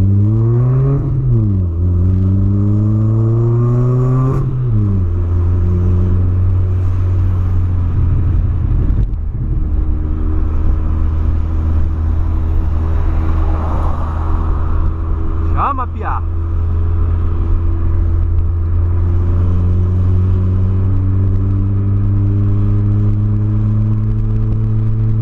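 A Volkswagen Polo with an aftermarket exhaust revs loudly up close, with several sharp rising and falling throttle blips followed by a deep, steady rumbling idle. Someone talks briefly over it.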